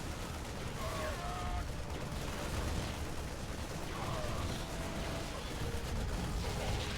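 Marine gunfire in a StarCraft match: a dense, continuous crackle of rapid shots that fills the whole stretch at a steady loud level, mixed with other game sounds and faint tonal effects.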